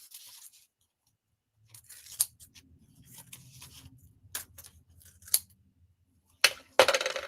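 Scissors snip through fabric while the corners of a zipper bag are cut, several sharp, close cuts spaced apart with quiet pauses and faint handling noise between them.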